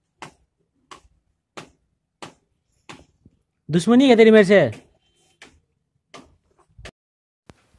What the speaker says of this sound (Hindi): हमारे पड़ोसी लकड़ी काट रहे थे,